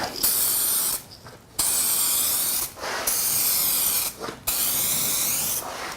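Bursts of aerosol spray coating a car headlight during a heavier second pass, steady loud hissing in four long pulls separated by brief pauses, close to the nozzle with no talk.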